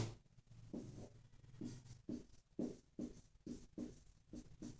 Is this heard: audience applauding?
no